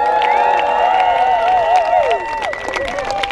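Crowd applause and cheering for the BVB A Bracket Champion at a tournament event, steady and loud throughout, with whistling and high shouts over it that ease off slightly toward the end.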